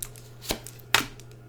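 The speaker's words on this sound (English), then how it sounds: "You saw me shuffle." Two quick, crisp papery bursts about half a second apart as tarot cards are shuffled, against a quiet background hum.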